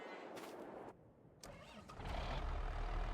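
Renault tractor in Farming Simulator cranking briefly, pausing, then catching and settling into a rising engine rumble that grows louder toward the end.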